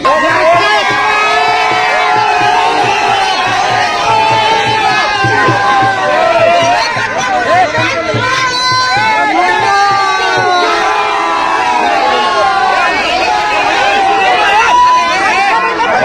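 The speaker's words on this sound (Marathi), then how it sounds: "पब्लिक जरा जल्लोष करते" A loud crowd cheers and shouts at a bullock cart race held at a village ground for 26 January, dense babble and whoops filling the whole stretch without letup.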